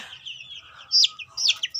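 A hen clucks in short, bright bursts, nearby and fairly loud, with a few quick calls in succession.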